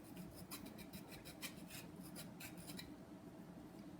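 A small file rasps back and forth against a bead piece to round it off, making faint, close scratchy strokes in a quick, irregular rhythm, with no voices.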